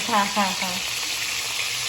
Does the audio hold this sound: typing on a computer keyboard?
no